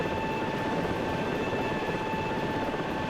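A helicopter in a flight simulation game holds a steady rotor and engine drone with a constant whine, unbroken and even for the whole stretch.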